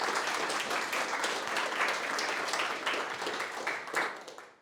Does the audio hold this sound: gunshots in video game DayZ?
no